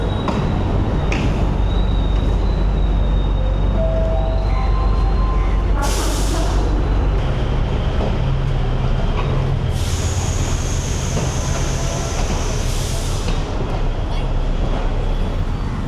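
Busy ambience at a century-old train station in Colombo, Sri Lanka, with a steady rumble, faint background voices, and occasional hissing bursts like air brakes from a train.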